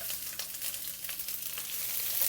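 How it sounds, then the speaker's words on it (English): Thinly sliced red onion fries in two tablespoons of oil in a wok, giving a steady close sizzle with soft crackling that thickens slightly toward the end, with no talking. "Fry them until they are a little bit translucent"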